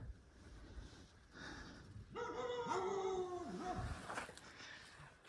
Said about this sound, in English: there are the rabid dogs